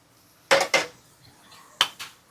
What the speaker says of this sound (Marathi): आता आपण पनीर ऍड करूया.